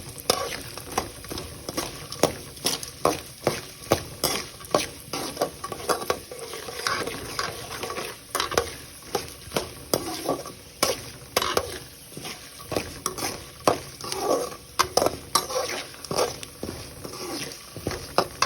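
Ingredients for lemon rice, including lentils, sauté in a pan under a steady sizzle, with rhythmic scraping strokes of a spoon stirring throughout, close and clear.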